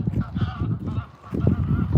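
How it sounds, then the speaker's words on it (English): Wild geese in open Icelandic countryside honk repeatedly in a busy, overlapping chorus at moderate distance, with faint voices nearby. "Wild geese."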